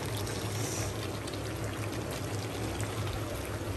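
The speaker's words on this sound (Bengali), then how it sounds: "কষিয়ে জল ফেলে দেবো" A steady, loud stream of water poured continuously into a pot of spicy mutton curry while cooking, a full splashing rush that runs without a break.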